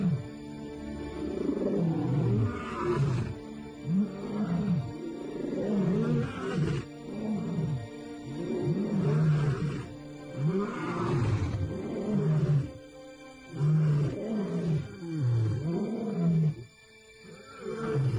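Male lions roar in a long repeated series of deep, grunting bellows, each call swelling and fading in a rhythmic cadence, loud and close, with brief pauses between bouts and no talking.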